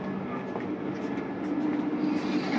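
Steady, dense rumble and hiss inside a moving Vande Bharat Express train, heard from the business class coach, with a continuous low hum and faint rattling throughout and no voices.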